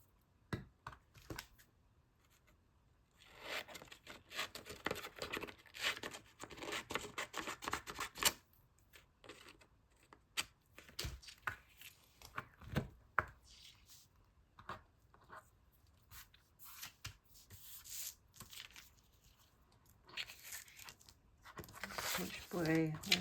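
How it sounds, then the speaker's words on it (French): Paper for a collage is cut and handled close up in quiet, intermittent bursts of snipping, rustling and crinkling, with pauses between the short cuts. "Ensuite, ça, je vais en couper un bout ici"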